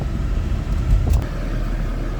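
A Mercedes E-Class W211 drives along with a steady low engine and road rumble from inside the cabin, moderately loud and continuous, with a brief swell near the middle and no talking.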